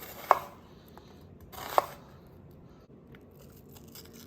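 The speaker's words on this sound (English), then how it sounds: "want to slice the onion and make sure they're separated into individual pieces" Two sharp knife cuts through an onion on a cutting board, spaced about a second and a half apart, crisp and close in an otherwise quiet kitchen.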